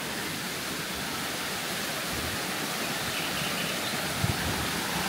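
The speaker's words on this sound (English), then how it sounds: "Is small waterfall in this village." Small waterfall in Chalandar village, Iran, heard as a steady broadband rush of falling water, close and continuous with no pauses.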